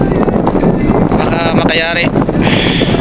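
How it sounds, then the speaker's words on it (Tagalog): Strong wind at sea roars steadily across the microphone throughout, with a voice speaking briefly over the constant gusting noise. "Malakas pa rin ang hangin."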